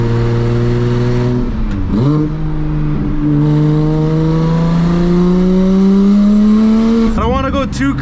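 A 700 whp single-turbo BMW 335i accelerates hard at 25-26 PSI of boost, engine note climbing steadily through long pulls with a brief dip and gear change, loud and close, ending in a rough burst of revving.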